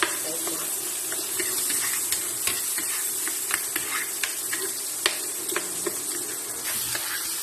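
Onions sizzle in hot oil in a pan, a steady close hiss with faint crackles and pops throughout, no talking.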